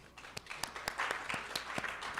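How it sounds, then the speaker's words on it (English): A panel audience at Meta Entertainment World Monaco claps for a sponsor: a short burst of distinct, fairly sparse hand claps at a moderate distance, keeping an uneven rhythm and fading slightly toward the end. "Applause for Gary, please."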